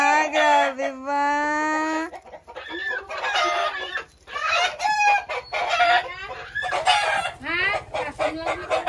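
Chickens and a rooster at a rural home in Negros Occidental cluck and squawk loudly at close range in repeated bursts, with a drawn-out crow near the start and people talking faintly in the background.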